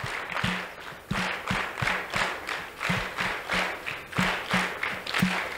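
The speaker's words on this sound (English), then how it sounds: "Give yourselves a big round of applause." An audience at the 2024 ABEA aviation awards ceremony in Kenya claps in a steady rhythmic beat, each sharp clap landing with a dull thump, over roughly five and a half seconds with no talking.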